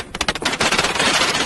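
Rapid automatic gunfire crackles during the 1967 Hong Kong riots, a dense run of sharp bursts that starts in quick separate shots and blurs into a continuous loud rattle, with no voices.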